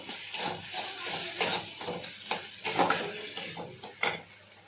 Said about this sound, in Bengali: একটু আদা বাটা দিয়ে দিচ্ছি ভালো করে কষিয়ে নেব